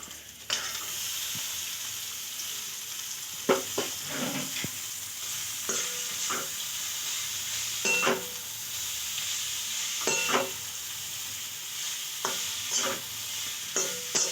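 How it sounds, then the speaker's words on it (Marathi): Noodles hit a hot pan and are stir-fried, a steady sizzle and hiss running throughout with repeated scraping and tossing strokes at irregular intervals; no voices. "आता याच्यामध्ये आपण हे नूडल्स टाकून देऊ."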